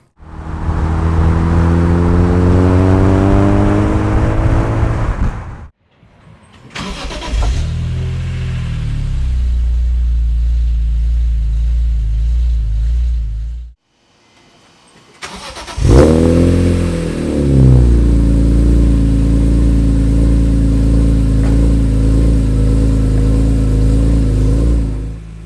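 A BMW E46 M3 engine with a Magnaflow Touring catback exhaust revs hard, deep and throaty, loud and close; several long revving bursts separated by brief pauses, no talking.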